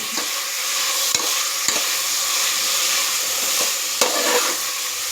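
Food sautéing in a pan on a gas stove, with a loud, steady sizzle and a few sharp scrapes as it is stirred, up close and with no voices.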